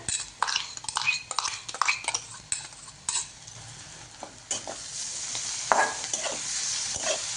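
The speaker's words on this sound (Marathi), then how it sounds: "आता टाकणार आहे हिरवी मिरची आणि लसूण बारीक केलेला" Green chillies and finely chopped garlic fry in a pan over a medium gas flame. A spoon scrapes and clatters quickly against the pan as they are stirred, followed by a steadier close sizzle.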